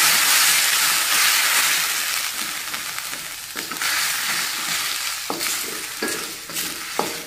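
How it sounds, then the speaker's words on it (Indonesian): Salted mujair fish stir-fry with jengkol and oyster sauce is stirred in a hot pan, a steady hissing sizzle broken by scraping utensil strokes and clacks against the pan. "Aduk."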